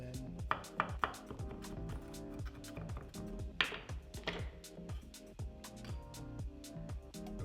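Garlic cloves minced with a knife on a cutting board for surf and turf pasta: rapid, steady rhythmic chopping taps, close and crisp, with a few heavier knocks, no talking.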